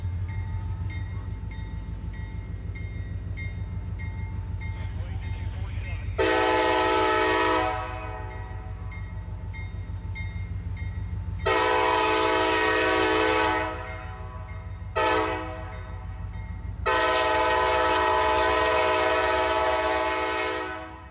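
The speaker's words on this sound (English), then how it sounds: "CI&W train Z505 is on the move." A Central Indiana & Western Railroad freight train, CSX-numbered Z505, rumbles steadily nearby while its horn sounds in several loud, sustained blasts, with a short gap between two of them.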